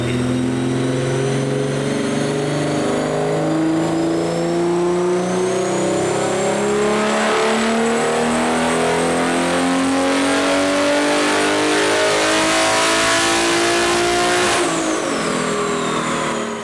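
A built BMW G80 M3 engine revs hard on a dyno run, a loud continuous roar rising steadily in pitch through the rev range with whining boost, then dropping off sharply near the end.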